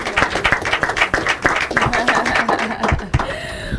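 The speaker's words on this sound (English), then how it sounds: "another warm round of applause" Audience at an inter-collegiate debate competition claps in uneven, fairly close bursts with individual hand claps standing out, voices calling over it, fading toward the end.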